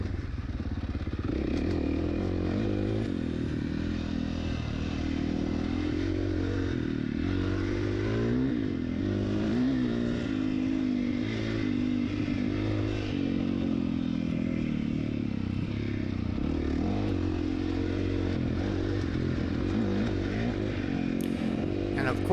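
A KTM-style FC450 dirt bike engine on a trail test ride drones steadily and loudly throughout, with rough mechanical clatter and brief throttle surges, a rider's voice talking over it.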